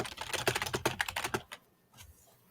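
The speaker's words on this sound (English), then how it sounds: "I'm hearing typing at the same time" Fast typing on a computer keyboard comes through as a rapid run of close, crisp key clicks, then trails off into a few scattered taps and quiet.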